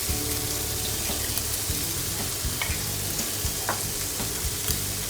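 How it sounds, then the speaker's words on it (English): Bacon frying in a pan for carbonara, a steady loud sizzle and crackle close by, with occasional clinks and stirring as it is tossed around, no voices. "Go back to my bacon, make sure I toss it around."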